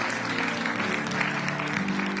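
A church congregation applauds new converts, a steady wash of clapping from a crowd with a tonal hum and faint voices underneath.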